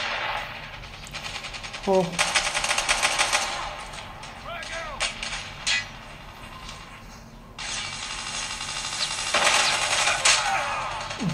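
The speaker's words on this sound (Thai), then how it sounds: "ยิงกันเดือดดาล" Rapid automatic gunfire crackles in a mobile shooter game played on a Redmi Note 9S, loud sustained bursts at the start and end with mechanical clicks and effects between, and a voice speaking over it.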